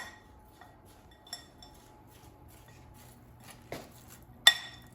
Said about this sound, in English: So just mix it so it's all coated with lime juice, vinegar, and seasonings.